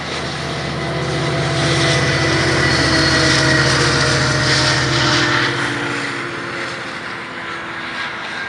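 Air Transat Airbus A330 airliner flying overhead, a loud jet roar with a droning engine whine that swells to a peak midway and then slowly fades as it passes.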